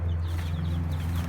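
A broody grizzled smooth Polish tolbunt hen sitting on eggs gives soft, faint clucks over a steady low hum, with no voices.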